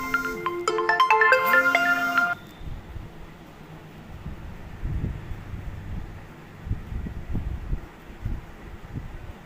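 A mobile phone rings with an incoming call, playing a bright melodic ringtone for about two seconds close by. It stops, leaving faint rustling and room noise with no talking.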